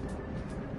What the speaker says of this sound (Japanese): 電車走ってんのは当たり前だろ